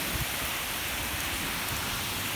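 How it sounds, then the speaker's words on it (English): Heavy rain from Hurricane Debby pours down hard and continuously on the surfaces around a house in a steady, dense hiss, with no voices. "we're getting so much rain, because the amount of water that was used to create that hurricane was a lot"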